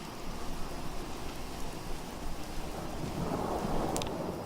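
Rain and rolling thunder in the Southern Commonwealth of the video game Fallout 4, a steady loud hiss of rainfall under continuous low rumbling.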